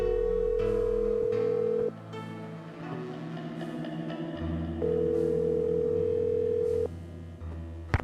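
A telephone dial tone plays in the Nancy Drew video game The Final Scene, a steady electronic hum that cuts off and returns. Quiet background music and a few clicks sit under and between the tones.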